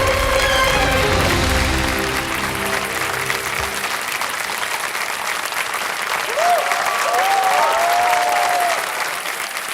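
Studio audience applause on the quiz show Kaun Banega Crorepati, a loud sustained burst of clapping that cuts off partway through, followed by a speaking voice and faint melodic music tones.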